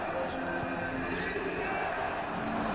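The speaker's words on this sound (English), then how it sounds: "Crowd is back into it." Crowd noise rises in a basketball arena during an NBA game as the home fans get back into a close contest, a broad continuous roar of cheering under commentary.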